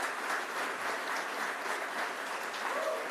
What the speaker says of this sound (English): I think we should give a warm applause to the whole team at Innovation Space